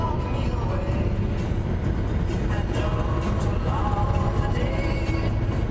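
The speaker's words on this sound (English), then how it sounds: "See that train?" A mining train carrying gravel rumbles past continuously, a steady heavy roar with clanking and screeching from the wheels on the rails.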